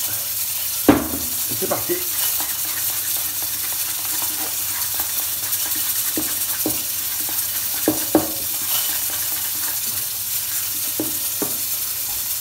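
Olive oil is worked into aioli by hand, a continuous wet swishing and stirring with occasional sharp clicks from the utensil against the bowl, while someone speaks briefly.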